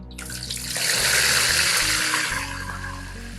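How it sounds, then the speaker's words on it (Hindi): Two medium sliced onions dropped into a cup of hot oil, a loud rushing sizzle that swells after the first moment then gradually settles, steady and close without speech. "ऑयल गर्म हो गया, इसमें 2 मीडियम साइज़ के प्याज शामिल करेंगे, स्लाइस कर लिया था हमने"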